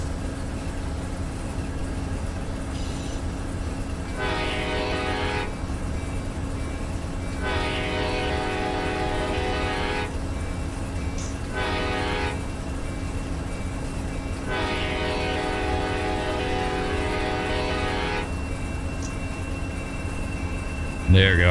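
Amtrak Auto Train rumbling along in the Run 8 Train Simulator game, a steady low drone with repeated long horn blasts sounding in bursts over the running noise.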